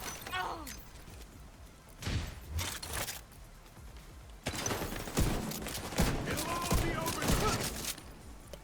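Video game gunfire in a sci-fi shooter: bursts of rapid shots and impacts come in clusters, loud and close, with a mostly steady stretch of firing in the second half and voices talking between bursts.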